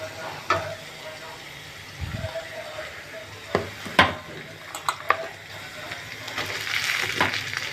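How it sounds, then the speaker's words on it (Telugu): Chicken added to fried onions in a pan, with sizzling frying, scattered stirring clanks and utensil knocks, the sizzle building louder near the end; a voice speaks briefly. "ఉల్లిపాయలు వేగినాయండి. ఇప్పుడు చికెన్ వేసుకుందాం."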